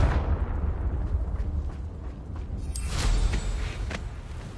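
Confringo blasting spell explosions in the Hogwarts Legacy video game, a burst of booming, rumbling blasts with crackling debris that swells again near the end, loud and alone.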